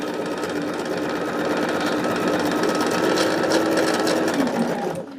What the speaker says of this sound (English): we are just about done sewing our second plus block unit